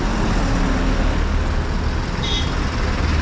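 Steady road traffic on a highway, heard while riding a mountain bike through congestion: a continuous broad rumble of cars, trucks and buses nearby, with a brief faint horn-like tone partway through and no talking.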